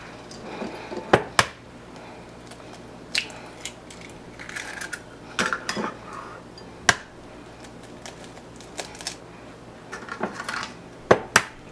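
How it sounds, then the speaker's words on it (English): Eggs for an ice cream custard are cracked open one after another, heard as a series of sharp close taps and cracks against a bowl rim, spaced by quieter handling sounds. "But we're going to go ahead, crack these eggs open,"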